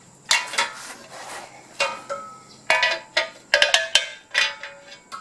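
Metal clanks and scrapes as a rusted part is pried and worked back and forth off a center flange on a Monza project car, in sharp, irregular knocks close by with short gaps between.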